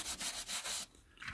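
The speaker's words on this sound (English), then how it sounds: "Trying to get this rubbing in picture." Close, steady rubbing on a vintage Penguin paperback during cleaning, several rhythmic back-and-forth strokes that stop abruptly and leave quiet handling.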